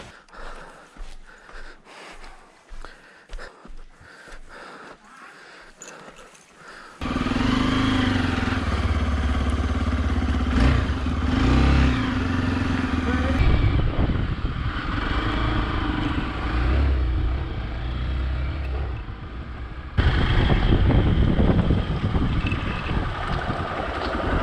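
A Hero Xpulse 200 BS6 motorcycle riding off-road toward a waterfall trail, its engine droning steadily under heavy wind buffeting on the microphone, following a stretch of quieter crunching footsteps.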